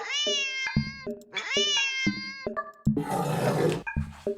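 A cat in the video game Do Not Take This Cat Home yowls and meows in a series of loud, drawn-out cries, closing with a harsh, hissing caterwaul.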